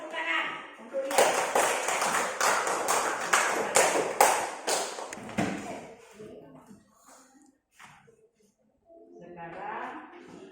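A classroom of students clapping hands together in a steady rhythmic series of about a dozen loud claps, then falling quiet, with a teacher's voice speaking before and after.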